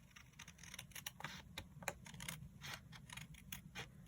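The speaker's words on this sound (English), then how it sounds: "then trim away following the edge" Scissors snipping along the edge of stamped paper in a quiet indoor craft setting, a soft steady series of close, crisp cuts and paper rustles with no talking.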